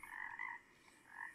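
A gray tree frog calls at night from a roadside ditch, giving a pair of faint, buzzy trilled bursts separated by a short pause, heard alone with no voices.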